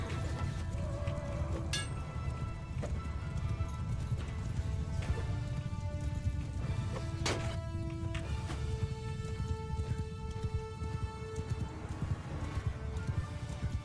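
Horses gallop in a medieval battle in the video game Bannerlord, a steady drumming of many hooves with occasional sharp clashes and tonal game effects layered over it, no talk.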